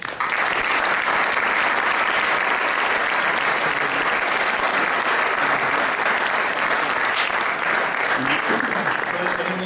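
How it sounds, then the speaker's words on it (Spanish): A hall crowd gives strong, sustained applause in honour of Iñaki Quesada, with dense, loud clapping running continuously from start to finish. "pues un aplauso muy fuerte a Iñaki Quesada"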